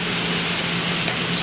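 Steam hisses off a hot hibachi grill in a steady, loud, unbroken wash of sizzle with no voices.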